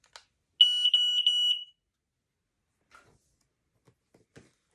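A newly unboxed smoke alarm being tested gives a loud, close, shrill burst of rapid electronic beeps for about a second. Faint handling clicks and rustles follow in an otherwise quiet room.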